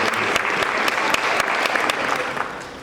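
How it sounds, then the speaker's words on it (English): Audience at a Black History Month community program applauding, steady close clapping from a room full of people, fading slightly at the end. "So y'all clap your hands for Tony Lewis Jr."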